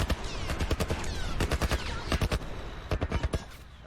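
Bursts of rapid gunfire from a military turret in The Last of Us Remastered, repeated sharp reports in clusters over a continuous loud game soundscape, no voices over it.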